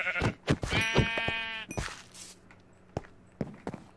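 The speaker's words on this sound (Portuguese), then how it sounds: "Desculpa, ovelha." A Minecraft sheep gives one clear, wavering bleat, framed by soft blocky footstep thuds and a few light taps afterward.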